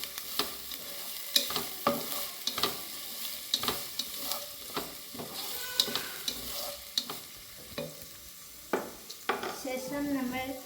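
Sliced onion sizzles in a hot pan while a utensil stirs it, giving repeated scraping clatters over a steady frying hiss, close and fairly quiet.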